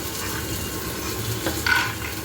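Pointed gourd pieces fry in a pan, giving a steady close sizzle broken by a brief clink of a utensil stirring near the end; nobody speaks.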